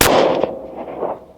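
A single loud hunting rifle shot at a target range cracks sharply up close, then trails off in a short rolling echo.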